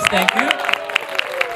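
A congregation at a Christmas carol church service claps in a scattered round, with sharp individual claps mixed under a speaking voice.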